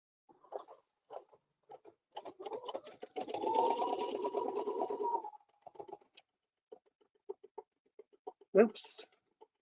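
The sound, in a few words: sewing machine stitching around fabric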